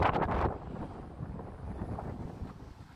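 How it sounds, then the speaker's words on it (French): Wind buffets a microphone outdoors at the seaside, a steady low rushing roar with a louder gust at the very start. "Donc il y a du vent, effectivement les amis, il y a du vent"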